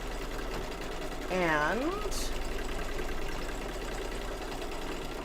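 Embroidery sewing machine stitching fabric down on an on-point landscape quilt block, a steady mechanical whir running throughout with a short burst of speech near the start.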